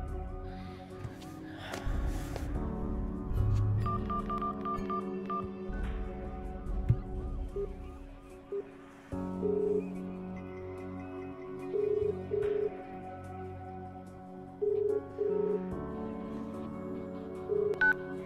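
A phone dials with short tones, then the ringback tone repeats in evenly spaced bursts and the call goes unanswered, set against a tense dramatic film score with gasps and breathing.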